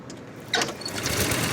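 Edwardian car engine starting, a sudden mechanical catch after a quiet moment that settles into a rapid, rough idling chatter, close and fairly loud.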